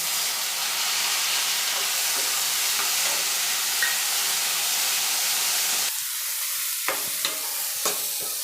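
Onion with two small-chopped tomatoes frying in a pan gives a loud, steady, close sizzle with hiss, broken near the end by a few sharp clicks of stirring.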